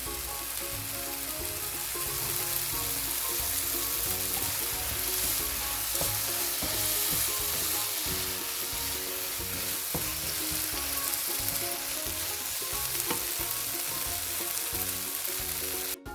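Onion, tomato, dried chilli and cashews frying in a pan for paneer butter masala, giving a steady, dense sizzle with light stirring throughout and no talking.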